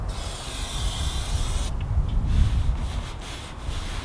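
A rust effect rubber coating is wiped off a surface with cleaner, giving a steady close rubbing hiss that builds and then eases into a few softer strokes, with no voices.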